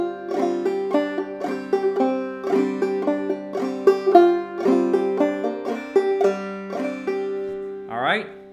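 Clawhammer banjo playing the A part of Cluck Ol' Hen, a close, steady bum-ditty groove of plucked notes and brushed strums, ending with a short ringing flourish.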